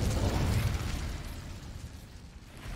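A fire spell cast in the Hogwarts Legacy video game, a rumbling whooshing burst of flame that starts loud and fades into a steady crackling roar over a few seconds, with no talking.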